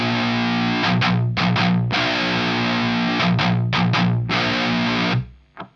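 Heavily distorted electric guitar played through a Blackstar Series One Mk II 100W amplifier, loud chugging chords and choppy riffs with short stops, ending on a fading ring and a final muted thump, no speech.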